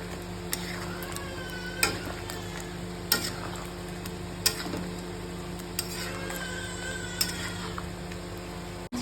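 Coriander powder being stirred into chicken curry in a pan, with a steady frying sizzle underneath and a handful of soft scraping spoon strokes scattered across it at close range.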